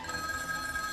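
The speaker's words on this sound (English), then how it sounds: "You can answer that phone, you're gonna let it ring." A telephone bell rings steadily and close by in a TV commercial, a bright continuous ring with no voices over it.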